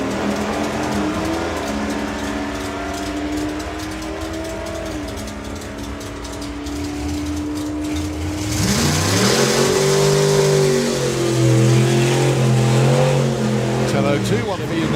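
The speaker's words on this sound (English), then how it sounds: "watch the Hillman go" A Hillman drag racing car at a drag strip, its engine droning steadily and then surging loud into a hard acceleration run, with people talking over the engine noise throughout.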